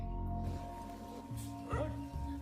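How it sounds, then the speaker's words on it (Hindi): Many dogs bark and whimper in a forest at night near Malcha Mahal in Delhi, moderately faint yelps and yips rising over a steady low droning hum. "तभी उन्हें बहुत से कुत्तों की आवाज़ सुनाई देने लगी"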